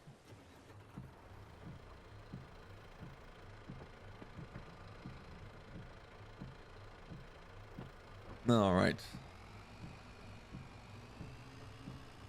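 A small tractor engine in the Farming Simulator game, pulling a cultivator on the Meadow Grove farm, hums low and steady at a quiet level with faint regular knocking pulses; someone speaks briefly over it.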